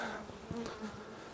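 Honey bees buzzing around an open hive during an inspection, a dense, steady drone of many wings up close, with individual bees whining past.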